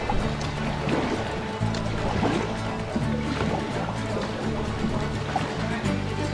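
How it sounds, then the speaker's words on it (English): Kayak paddling on open ocean swell off the Oregon coast, with steady wash of water and rhythmic paddle strokes splashing close by under a continuous background of sea noise. "We're paddling pretty hard here because if a swell comes through, it will definitely lift you up."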